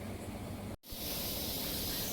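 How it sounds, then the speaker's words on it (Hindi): A pressure cooker whistles while sambhar cooks, giving a steady loud hiss of escaping steam that breaks off briefly near the start and then resumes, continuous and close. "सांभर मैंने इधर रख दिया है, जिसमें सीटियाँ लगातार आ रही हैं।"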